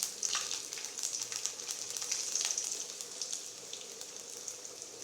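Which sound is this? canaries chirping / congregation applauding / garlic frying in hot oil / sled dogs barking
garlic frying in hot oil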